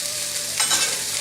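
Onions and other aromatics sautéing in a pan as part of cooking American shad give off a brief, steady sizzle with a faint stirring swish midway; no voices.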